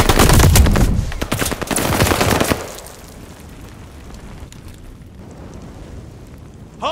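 Rapid machine-gun bursts crackle loud and close during a Call of Duty: Vanguard hardpoint match, dense for the first few seconds, then dropping to quieter scattered rattle before one last burst.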